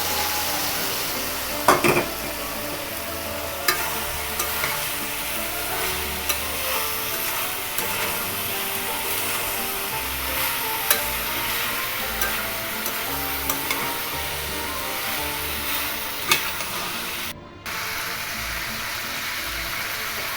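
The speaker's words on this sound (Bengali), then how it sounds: "এ পর্যায়ে আমরা সেদ্ধ করে রাখা সবজিগুলো মশলায় অ্যাড করে দেবো" Boiled vegetables are stirred and fried in a spice masala in a pan. A steady, close sizzle runs throughout, with scraping stirring strokes and occasional clinks of the spoon against the pan, and no voices.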